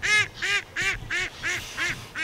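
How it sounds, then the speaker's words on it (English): Ducks on a pond quacking in a steady series of six loud, nasal calls, close by, with no voices. "I've got all these ducks coming to visit me."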